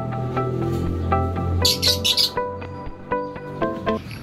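Pet lovebirds give rapid, bright chirps and tweets close by, a busy stream of calls with a brief cluster of sharper, higher squeaks in the middle.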